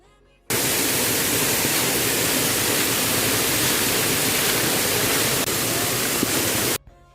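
Village pond overflowing, its water pouring over the edge in a loud, steady broadband rush, close and continuous, starting abruptly and cutting off near the end.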